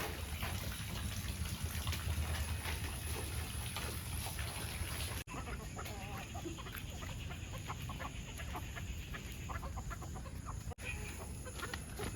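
Chickens cluck on and off in a rainy village yard, faint and steady against a constant wash of rain or water noise, with no clear talk.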